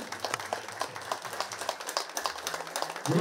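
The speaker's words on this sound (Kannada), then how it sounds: "ಧ್ಯಾನಕ್ಕೊಂದ್ಸಾರಿ ಜೋರಾಗಿ ಚಪ್ಪಾಳೆ" Hands clap rhythmically at a vegetarian awareness meditation gathering in Ramanagara, a steady run of crisp, fairly close claps that stays moderately loud and ends with a louder swell.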